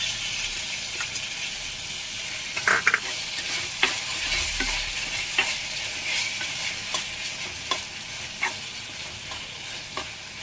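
Tomatoes sautéing in a pan for a Khubba masala, a steady soft sizzle with occasional scraping stirs and clicks of a spoon against the pan.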